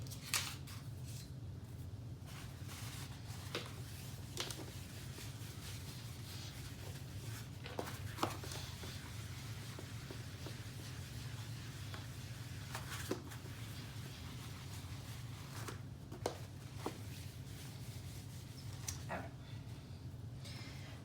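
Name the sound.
erasing the board during a lesson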